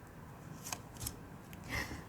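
Tarot cards are shuffled by hand in a few soft, close riffles and swishes spread across about two seconds, quiet against a faint background hiss.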